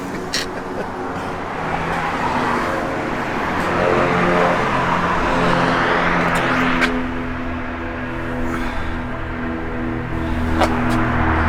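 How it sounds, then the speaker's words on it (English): A heavy vehicle rumbles by nearby, its low engine drone swelling and fading over several seconds, with a few sharp clicks and some speech. "that's probably that truck that come by"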